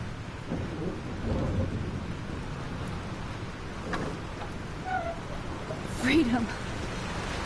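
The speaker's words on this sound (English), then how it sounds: "This storm is real." Thunderstorm ambience from the video game Life Is Strange: steady rain hiss with low rumbling thunder swelling around the middle and end, continuous and fairly loud, with a brief tonal game sound near the end.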